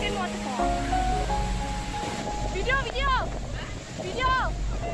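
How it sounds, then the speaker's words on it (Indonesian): The second tier of a waterfall in Indonesia sends up a steady, full rushing roar of falling water, heard nearby under people talking. "Kita dah sampai ke waterfall yang kedua."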